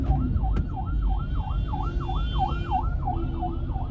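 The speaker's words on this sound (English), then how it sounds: "Ambulance." An ambulance siren wails in steady, rapid up-and-down sweeps through early-morning traffic on a road trip toward Elmina, loud and continuous over a constant low road rumble, with no talking.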